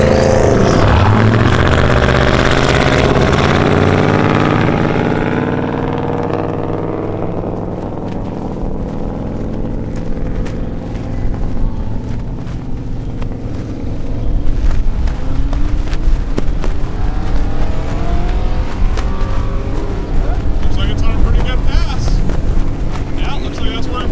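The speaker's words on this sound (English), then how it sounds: "We're gonna run this Corvette here." A Corvette drag car with about 19 pounds of boost runs at a no-prep airport race, its loud engine rising and falling with heavy wind buffeting, and voices talking over it.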